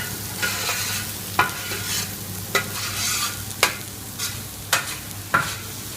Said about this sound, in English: always you have to move all the time the ingredients you have in the paella